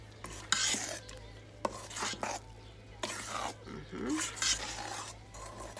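Whole-wheat waffle batter for savory waffles with bacon, cheese and green onions being stirred and folded in a bowl, soft and close, with spoon taps and scrapes coming in uneven bursts over a steady low hum.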